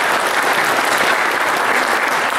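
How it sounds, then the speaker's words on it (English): Audience applause at a welcome and introduction event, loud and steady, with a thick wash of many hands clapping continuously and no voices over it. "So again, a round of applause for Jane."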